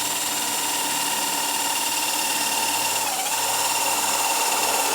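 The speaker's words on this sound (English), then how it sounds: "Let's get to drilling." A power drill bores holes in aluminum while a trail tank is installed on a Polaris IQR 800 snowmobile, producing a steady high whine with one brief dip in pitch partway through, loud and close with no talk.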